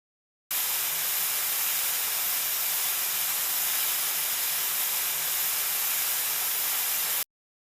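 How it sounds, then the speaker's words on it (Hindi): A pressure cooker with its weight on, steaming mutton and turnip, gives a steady, even hiss that starts suddenly, holds at constant loudness for about seven seconds, then cuts off. "जस्ट हम प्रेशर कुकर को वेट लगाएंगे 15 से 20 मिनट के लिए"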